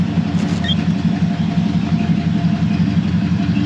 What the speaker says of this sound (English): You have a great sound coming out of the dual exhaust.